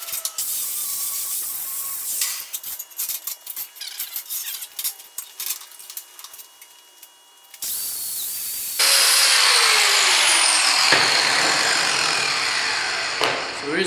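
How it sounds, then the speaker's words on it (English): Wire brushing and then a power sander clean fresh, still-hot welds on a metal garden sign: a run of rapid scratchy scraping bursts gives way to a steady, loud abrasive whine of sanding that carries on to the end, with no talking. "we'll hit it with the wire brush, and then we'll hit it with the sander again to clean that up"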